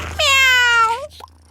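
A single clear cat meow, drawn out and close, rising then sliding down, followed by a faint soft knock and quiet afterward, in a kitchen setting during cooking.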